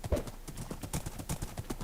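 A horse in the Minecraft video game trots along with a steady clip-clop of hooves, close and regular, about two beats per half second, with no voices over it.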